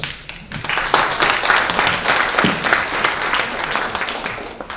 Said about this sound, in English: I never had people clap before I even spoke.